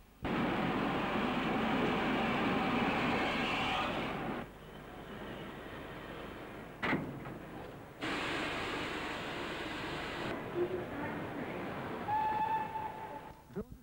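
A steam train runs on the railway, with a loud, steady rumbling roar that drops away, a short sharp whistle-like burst, then a return of continuous rolling noise and a faint tonal squeal.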